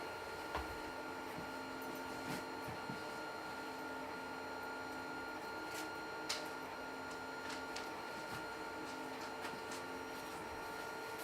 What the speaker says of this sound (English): I had a printer stop.